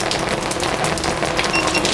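Steady rain hiss spatters across everything during a waterproof test of a SwellPro SPRY drone, with dense, even patter and faint tonal whine from the drone's motors flickering in and out.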